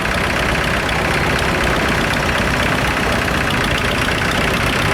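A vintage Turner tractor engine runs steadily during an arena parade at an agricultural autumn show, a continuous loud mid-pitched rumble with a faint knocking texture and no talk.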